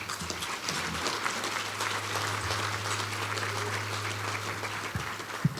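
A roomful of guests at a charity breakfast gives a sustained round of applause, a steady dense patter of many hands at a moderate distance over a constant low hum, lasting several seconds.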